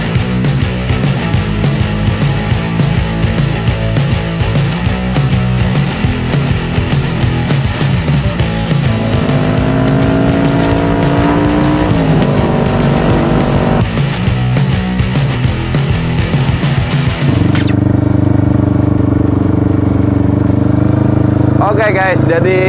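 Kawasaki Ninja 250 two-cylinder motorcycle, customised in a Royal Enfield style, running loud and close throughout a test ride, its engine note rising and falling with shifts, steady near the end.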